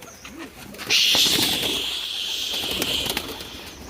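Pigeons coo softly at close range in a loft, with a low, rounded call near the start and a sustained higher tone and faint rustling behind it.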